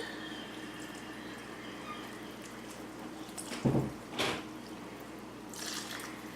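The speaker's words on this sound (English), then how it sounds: "All right, and then I pour it in" Homemade baby wipe solution is poured into a container, giving two brief, soft splashing gushes close by over a faint steady background hiss, with a light trickle near the end.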